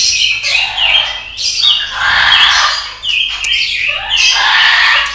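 A white-rumped shama calls loudly and close by in several bursts of bright, varied whistles and chirps, with short pauses between phrases.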